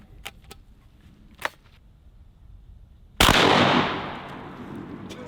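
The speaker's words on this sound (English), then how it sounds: "For the pineapples, we'll try some double-aught buckshot." A double-barrel shotgun fires double-aught buckshot at pineapples: a few faint clicks and handling noises, then one loud nearby blast that rings out and fades slowly.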